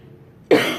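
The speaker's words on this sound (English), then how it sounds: "I apologize for the coughing." A single harsh cough from a person who has been sick, close and loud, bursting out after a moment of near silence.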